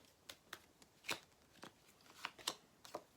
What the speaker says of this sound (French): on va prendre 3 cartes ici